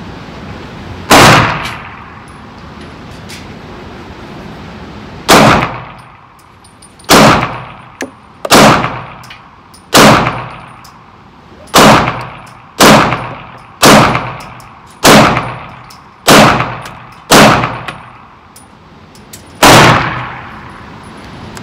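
A Glock 48 pistol loaded with a Shield Arms S-15 magazine fires about twelve loud, sharp shots at an uneven pace, with a longer pause after the first shot and quicker shots in the middle.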